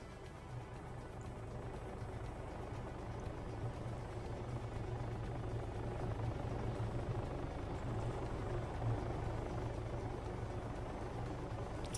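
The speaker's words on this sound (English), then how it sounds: "So Mox has brought a helicopter in" A helicopter arriving in the Arma 3 military game, a continuous low rotor and engine drone that holds loud and steady throughout with a faint rise, no clear talking over it.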